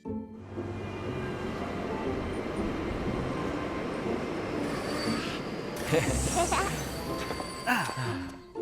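An animated toy train rolls into a station with steady rumbling and rail noise, then a sharp wheel squeal and a brakes hiss as it arrives, fairly close.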